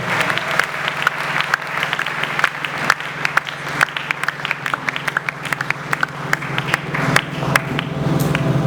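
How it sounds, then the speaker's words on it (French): A church congregation applauds at a Sunday service as the pastor steps forward, with steady, dense clapping that fills the room for the whole stretch and never lets up. "Quand le pasteur s'avance, on acclame le Seigneur."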